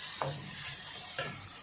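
Tofu that has already been fried goes into a hot pan on high heat for a tomato and minced pork dish, setting off a steady sizzle with two sharp stirring scrapes, close and alone.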